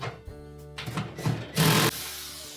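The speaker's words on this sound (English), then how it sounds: "next we're going to remove the two mounting screws that secure that element to the back wall of the oven" Mounting screws on the bake element of a Whirlpool range are being removed, with short bursts of a small power driver whirring up at close range and one louder buzz near the end.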